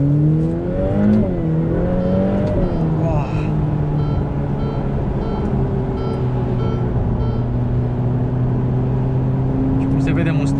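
A Ferrari F8 Spider pulls away from standstill in first gear, its engine note climbing then settling into a steady close drone, with someone talking over it throughout.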